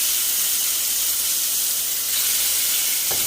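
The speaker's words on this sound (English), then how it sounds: "pan-sear these salmon, guys. Salmon fillets." Salmon fillets pan-searing in hot oil give off a loud, steady, broadband sizzle that runs unbroken and close, with no talking.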